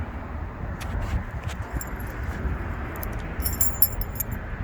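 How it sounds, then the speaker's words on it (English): The original keys of a 1968 California Special Mustang jangle and clink in bright, irregular bursts close by, rattling more busily toward the end over a low rumbling background. "Original keys."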